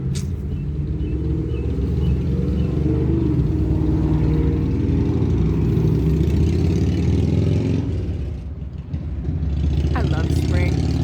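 Steady low rumble of busy road traffic with passing cars and engines, continuous and fairly loud, briefly easing before swelling again as another vehicle passes nearby.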